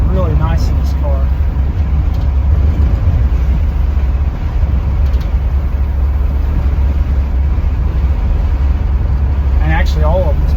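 A 1973 Ford Maverick on the road, its steady low engine and road rumble running continuously throughout, with brief faint chirps near the start and end.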